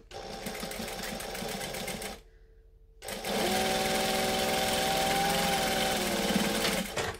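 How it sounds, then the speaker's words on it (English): A sewing machine tacks the lining down inside the seam allowance of a garment, running in two steady bursts of rapid mechanical stitching. The first burst is broken by a brief pause before the second, longer run, which stops abruptly. "So I'm just tacking that down within the seam allowance so that we're not going to see these stitches"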